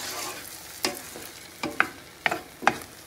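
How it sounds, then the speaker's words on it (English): Eggs seasoned with garlic powder are stirred in a frying pan: soft, faint sizzling throughout with several short scraping strokes of a utensil against the pan, close by and without talk. "so let me go ahead and stir that up."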